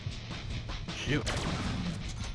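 Submachine gun and assault rifle fire in the Deadpool video game, a short clatter of shots beneath a talking voice and busy game noise.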